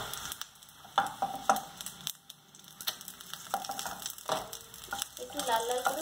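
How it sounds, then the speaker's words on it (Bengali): Eggs frying in oil in a pan (kadai), a steady sizzle with scattered scrapes and clatters of a spatula, loud and close, with a brief quieter dip midway. "একটু লাল লাল করে ডিমগুলোকে আমি ভেজে নিয়েছি।"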